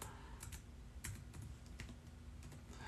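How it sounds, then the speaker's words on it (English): Computer keyboard being typed on in quick irregular bursts of clicking keystrokes, close but quiet, with no voices. "typing your information in."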